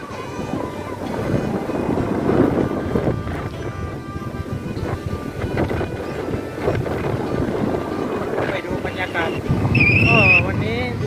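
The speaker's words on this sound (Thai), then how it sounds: "ก็ลมพัดค่อนข้างแรงครับวันนี้" Strong wind buffets the microphone at the Pak Phanang seashore while waves wash in nearby, a constant rough roar with a few short high tonal sounds near the end.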